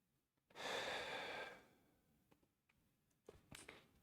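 One long, loud breath out after a workout, gasped close to the mic, then quieter, slower breaths with small clicks and rustles.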